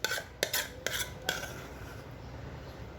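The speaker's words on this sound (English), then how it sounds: "Now with this you have to mix your mango pulp" Spoon clinking and scraping against a bowl while mango pulp is stirred into a pudding mixture, a few sharp clacks early on, then quieter steady mixing, close and without talk.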